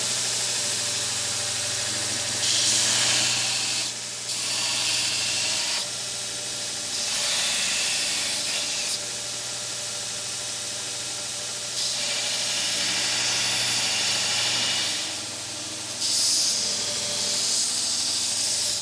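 A Snody Knives machine does stock-removal profiling on a steel knife blank, giving a loud, continuous abrasive hiss. The grinding swells and eases in several passes across the whole stretch.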